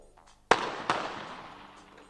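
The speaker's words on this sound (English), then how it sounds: "So Kim could equal the world record with this next shot." Two sharp, echoing 25m pistol shots at an ISSF World Cup women's competition in Baku, close together and each followed by a lingering reverberant tail, with no talk.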